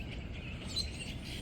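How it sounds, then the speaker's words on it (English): Birds chirping in strong, gusty wind in Tulsa, small high calls scattered over a constant roar of wind noise at moderate level. "Y'all see all those birds?"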